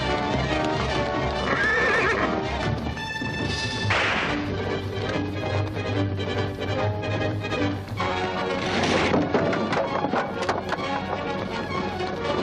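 Horses whinny loudly and hooves clip-clop amid a busy, chaotic commotion in the 1939 film serial Zorro's Fighting Legion, with several neighs rising over the continuous hoofbeats.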